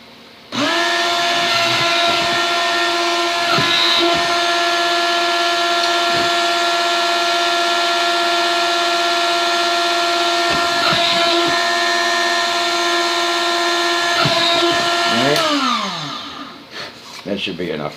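A small high-speed drill bores random holes into a home-made PCB test board, holding a loud steady whining tone for about fifteen seconds before spinning down, with a few faint clicks during the run.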